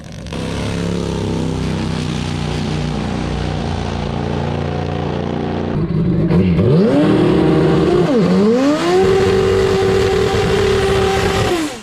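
A nitro drag racing car roars down the strip on a 6.5-second pass in Perth, the engine note steady and loud before climbing through sharp revving sweeps as it accelerates away.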